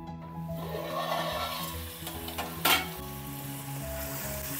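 Chicken cooking in oil in a covered pan for a simple chicken curry, a low steady sizzle with a faint hum and one brief clatter partway through.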